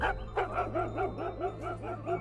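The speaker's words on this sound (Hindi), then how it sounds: "लेकिन वो कोई आम कुत्ते की तरह नहीं भौंक रहा था।" A dog tied on a leash barks in a quick, regular string of about eight high, wailing yelps over a constant low hum, with no one speaking.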